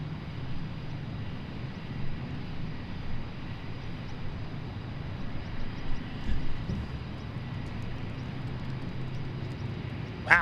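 A Blue Angels F-18 jet at the Seafair airshow makes a steady, distant low roar that holds throughout, mixed with wind buffeting.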